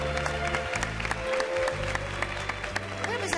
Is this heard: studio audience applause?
yes